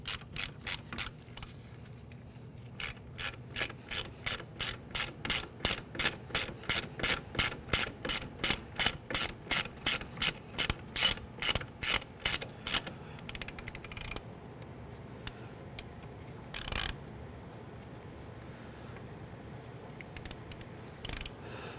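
A hand ratchet tightens a 12 millimeter bolt while a Honda Element's front strut and spring assembly is being fitted, giving a long, steady run of loud, close clicking bursts that then break into a few scattered clicks.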